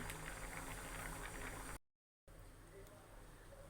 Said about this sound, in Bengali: এটা এখন চুলার আঁচটা কমানো আছে, এটা আস্তে আস্তে ফুটে আসবে।